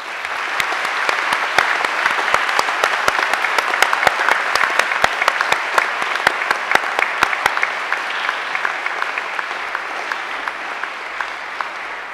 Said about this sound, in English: face your family and friends, and give them a big round of applause.